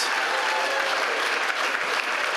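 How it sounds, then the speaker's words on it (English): Dense, steady applause from an awards-night audience at a football league medal presentation, filling the whole moment without a break, loud and close. "Ladies and gentlemen, round of applause for Grace Hay."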